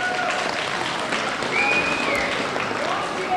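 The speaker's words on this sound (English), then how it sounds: "Give them a big round of applause." An audience at a CO2 racer car awards event claps for the best finish winners. Applause fills the hall for the full few seconds, a dense, even patter from many hands.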